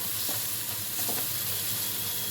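Tomato curry stirred in an open pan, with a continuous close sizzle and soft scraping of the spoon, no voices.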